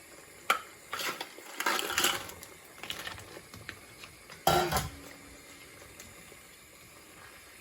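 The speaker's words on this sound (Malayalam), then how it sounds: "നമുക്ക് നമ്മുടെ ക്രാബ് അതിനകത്തേക്ക് പെറുക്കി ഇടാം" Crabs are dropped one after another into a pot of salted bubbling water, with clattering splashes and a steady boil underneath, no talking.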